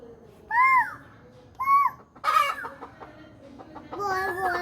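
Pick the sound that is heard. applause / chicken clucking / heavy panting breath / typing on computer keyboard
chicken clucking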